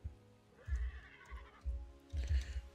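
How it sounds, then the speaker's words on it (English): A horse in the video game Hytale neighs in short bursts, the whinny rising and falling over about three seconds with soft snorting breaths between, fairly quiet and with no talk over it. "Horses."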